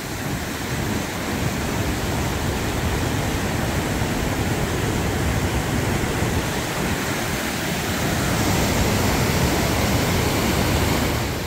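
Dangerous rushing river water roars below a rickety bridge near Nanga Parbat, a loud, steady, broadband rush with no let-up and no voices.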